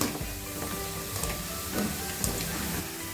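Okra and garlic frying in a pan for a Tamil vendakkai fry, a steady close sizzle with crackling spits and occasional stirring scrapes throughout.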